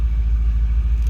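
A 1965 Ford Thunderbird convertible with a 390 V8, in neutral, runs as a deep, loud, steady low rumble with a slight pulsing throb. Only a brief stretch is heard, close up and without talking.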